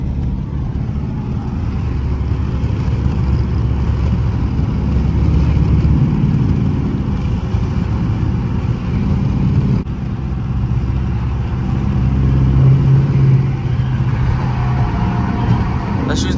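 A Dodge Charger R/T engine pulls hard on a highway at early morning, with a loud, sustained low rumble building across the run, heard from inside the car, while a voice talks over it at times.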